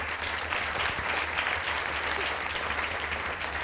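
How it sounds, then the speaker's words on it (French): Steady audience applause at a film club screening, a dense even wash of many hands clapping throughout, moderately loud with a low hum beneath. "que l'on peut applaudir immédiatement"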